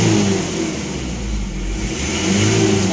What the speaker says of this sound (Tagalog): So magre-rev lang tayo ng ganito.